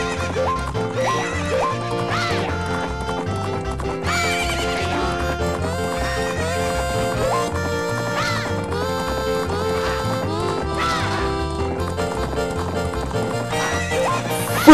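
Horses in the video game Zelda: Majora's Mask gallop and neigh during a race, with quick hoofbeats and repeated whinnies layered over loud, constant game music.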